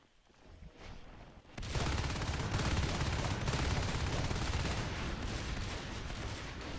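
Dense shotgun fire in Natural Selection 2 during a competitive match against aliens: a quiet start, then from under two seconds onward a continuous loud barrage of overlapping blasts and combat noise, with no talk.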